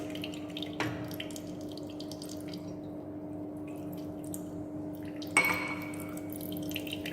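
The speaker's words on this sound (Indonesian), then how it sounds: "Kemudian kita bilas lagi dengan Aquades" Distilled water pours and splashes in a lab sink while slides are rinsed for PAS staining, with a steady trickle and a few sharp drips and clinks of glassware over a low background hum.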